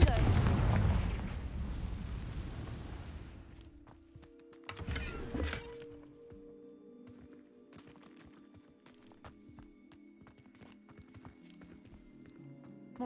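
A Confringo blast curse bursts in a Harry Potter video game: a dense crackling explosion with a brief booming burst, followed by a lingering low rumble and scattered clicks.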